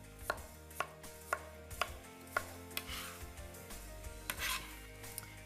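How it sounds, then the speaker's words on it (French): A knife chops potatoes into cubes on a cutting board for a chowder, a sequence of about eight crisp, evenly spaced thuds close up, with soft kitchen rustling between strikes and no talk. "Par contre, les patates, je vais les couper en cubes un tout petit peu plus gros."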